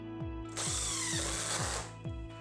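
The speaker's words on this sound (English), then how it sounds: "you can start pre-drilling them, and also you can start the screws for easier installation" A power drill pre-drills and drives screws into wall framing while a dog door is installed, giving a loud steady whir in a single run, with short ratcheting pulses before and after.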